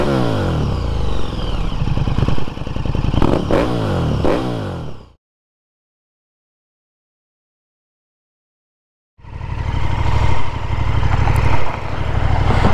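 A KTM 1290 Super Duke R fitted with an SC Project carbon exhaust revs loudly and up close with a deep, throaty note in two bursts separated by several seconds of silence.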